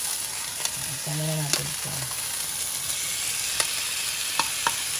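Chili sizzling and frying in a hot pan with corned beef, a steady loud hiss all the way through, with a few spatula clicks and a short spoken phrase early on.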